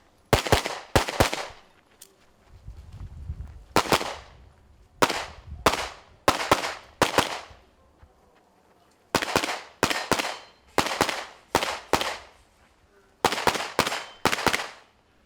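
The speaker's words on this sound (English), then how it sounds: "Great shooting for Petr Piáček." Loud, sharp gunshots from a practical shooting competition stage in the open division, fired in rapid double and triple bursts separated by brief pauses, close to the microphone with faint voices between strings.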